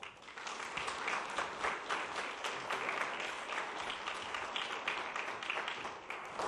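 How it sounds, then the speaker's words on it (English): An audience gives a guest speaker a warm welcome at a talk, dense, even applause from many hands held steady at a moderate distance for several seconds, with no voices. "So if we could, guys, give a warm round of applause for Gary Karp."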